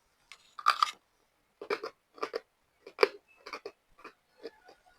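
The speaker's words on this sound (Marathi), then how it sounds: "खायला पण मी खाऊन दाखवते" Someone bites and chews a crunchy homemade fasting chakli snack, giving a series of sharp, dry crunches close up in quick irregular bursts with short quiet gaps between them.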